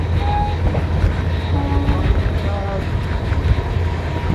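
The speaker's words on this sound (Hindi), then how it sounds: "सामने से आ रही है पातालकोट एक्सप्रेस" The Patalkot Express approaches and passes on a line from Bathinda, a loud, continuous rumble of wheels and cars with faint tonal horn-like notes, close by.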